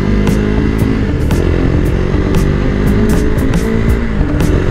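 A KTM naked bike's engine drones loud and steady while riding, a constant low rumble mixed with wind noise and no talking.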